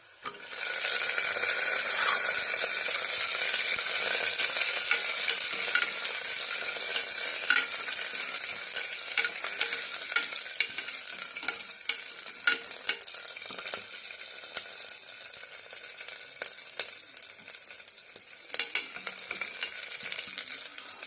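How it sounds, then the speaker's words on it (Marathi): Green chillies and onions sizzle and fry in a hot pan while being stirred, a steady close crackle running throughout with scattered sharper pops and no talking. "लालसर परतून घ्यायचं आहे म्हणजे त्याचा फ्लेवर छान येतो त्यातच आपण हिरव्या मिरच्या टाकणार आहोत"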